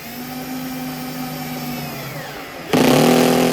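A vacuum pump drawing a boat part down onto 5200 marine sealant, running as a loud, steady motor whine that suddenly jumps louder and harsher near the end.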